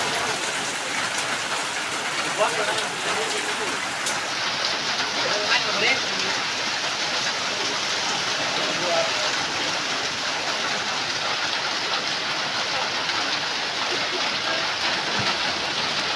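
Heavy rain pours steadily over a flooded street, a dense continuous hiss that holds even across the whole stretch, with a faint voice now and then beneath the downpour.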